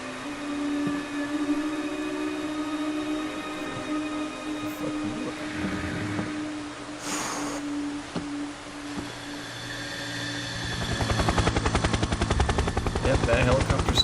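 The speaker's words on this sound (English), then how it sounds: "Yep, that helicopter's still making noise." A helicopter in Metal Gear Solid: Snake Eater drones steadily in the game's soundscape, growing into a louder rapid chopping in the final seconds, with gunfire-like bursts and voices talking over it.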